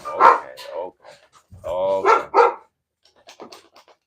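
A dog barks loudly nearby in a few sharp bursts, with a longer growly bark in the middle, followed by fainter panting and small yips.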